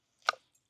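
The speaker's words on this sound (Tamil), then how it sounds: "இந்த கத்தி நல்லா அறியுதுடா இன்னும்" A single knife chop on food at close range, one brief crisp cut and a small follow-up knock, alone with no talk.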